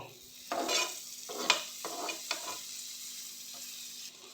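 Butter naan cooks in a pan as butter is added, a quiet sizzle that flares in several short bursts with small scrapes, then settles into a faint, even crackle.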